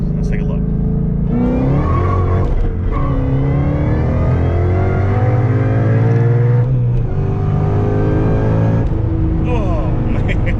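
A supercharged 2013 Mustang GT accelerates hard from a second-gear roll, its engine note climbing in rising sweeps with a brief drop at each gear change, loud and close inside the cabin.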